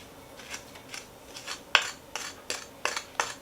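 Flour and brown sugar are stirred together in a small bowl, making a series of short scraping, clinking strokes at a quick regular pace, close and fairly quiet.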